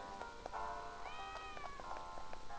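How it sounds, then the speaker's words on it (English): A cartoon cat in the Professor Layton and the Specter's Call video game gives a clear, drawn-out meow with a rising and falling pitch over a steady musical background. "Hey kitty, come here kitty."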